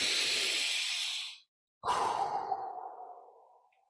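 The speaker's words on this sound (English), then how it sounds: "Take a deep breath with me right now" A single deep breath, a long airy inhale followed by a slow, fading exhale, close and clear in a quiet room with no talking.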